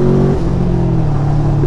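Throttle revving from a modified 200 hp Yamaha V-Max motorcycle: a loud, close engine drone that climbs slightly in pitch, then settles into a steady high rev, with no talk over it.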